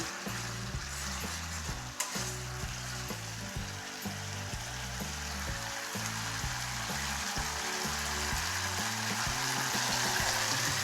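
Soybean dish with tomato sauce and yogurt frying in oil in a pan, a steady dense sizzle that carries on unbroken at close range, with no voices over it.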